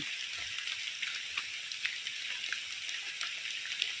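Rain falling in the hills during mushroom picking, a steady fairly faint patter of drops with occasional sharper taps and no voices.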